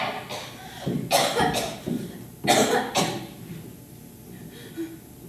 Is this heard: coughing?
yes